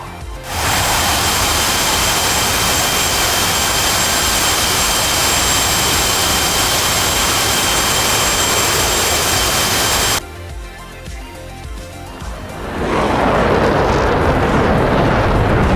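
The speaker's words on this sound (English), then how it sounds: "It's the afterburner dogfight." Roaring jet engines with afterburners in a video game dogfight, a loud, continuous broadband blast that briefly drops and then surges back to full force.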